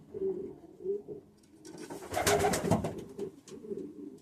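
Pigeons coo in a breeding loft where the birds are laying eggs, on a sunny day; soft repeated low coos come steadily through, swelling into a denser, louder stretch of mixed bird sound midway before settling back.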